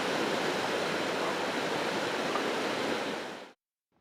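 Clear water flows through a stream among snow-covered rocks in a mountain valley, a dense, steady broadband rush that cuts off abruptly near the end.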